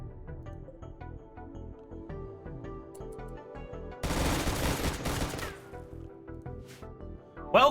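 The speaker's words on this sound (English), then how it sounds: "Welcome to the hail of gunfire" Gunfire in the colony-building video game RimWorld: scattered rhythmic shots, then a dense, loud fusillade of overlapping rounds for a second or so before the firing thins out again.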